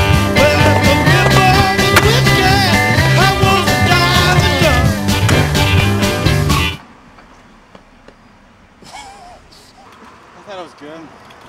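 A skateboard rolls on a street, its wheels giving a faint rumble and clatter under loud music that cuts off partway through. After that, voices talk quietly over the softer rolling.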